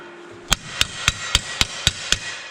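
A hammer strikes a metal pipe to straighten it in a workshop: seven sharp, ringing metallic blows at an even pace, close and loud, with no voices.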